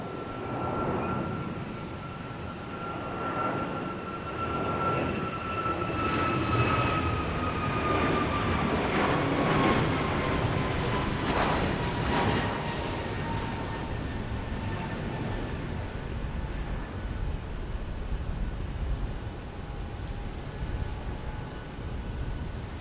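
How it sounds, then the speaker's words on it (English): Airbus A321neo airliner departing Phoenix Sky Harbor for Hawaii, a sustained engine roar with a falling whine that passes fairly close, holding steady and loud for most of the stretch. "Another A321neo to Hawaii."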